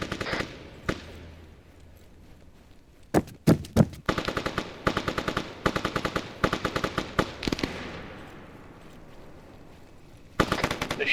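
Bursts of automatic gunfire strike a small yellow building, rapid cracking volleys in irregular clusters with pauses between, loud and echoing, with a final burst near the end.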